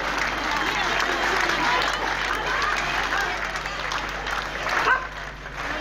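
Crowds applauding in the street, dense sustained clapping mixed with voices and scattered shouts, with a short louder burst near the end.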